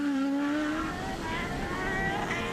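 An IndyCar race car on a qualifying lap at Sonoma howls past, its engine note falling then climbing again through the corners, loud and continuous with no speech over it.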